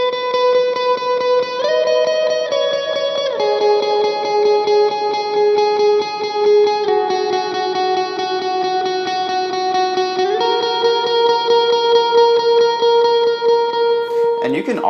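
Electric guitar with heavy distortion, chorus and reverb plays sustained worship-style chords for the bridge of a song, shifting through several long ringing chord changes, loud and alone.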